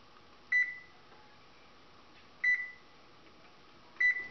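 A kitchen oven timer gives three short electronic beeps, spaced about two seconds apart, clear against a quiet background.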